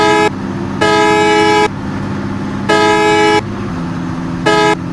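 A Hanif bus sounds its loud horn while overtaking another vehicle on the road: four long, blaring honks of varying length separated by short gaps, over a steady engine drone, close and prominent.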